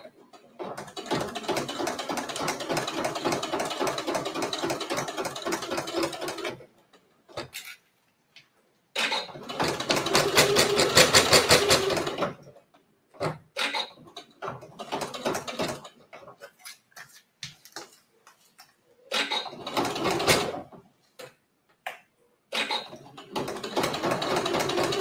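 A domestic sewing machine stitching bulky Italian leather with snaps, loud rapid mechanical chattering runs separated by silences and short stop-start bursts, close and unaccompanied by speech.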